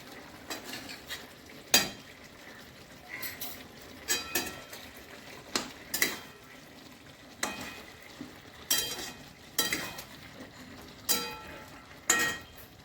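Ghee goes into a cauliflower-potato curry in a pan and gets stirred, giving a soft low simmer broken by a dozen or so sharp, close clinks and scrapes of a metal spoon against the pan.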